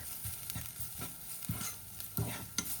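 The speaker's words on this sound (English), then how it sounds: "2 teaspoon coriander powder, 1 teaspoon black pepper powder, and saute for a minute." Coriander and black pepper powder sauté in a pan with other ground spices, a low sizzle broken by regular stirring scrapes about every half second, close and fairly quiet with no talk.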